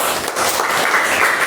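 A classroom audience gives a sustained round of applause, dense steady clapping from many hands filling the whole moment, with no talk over it.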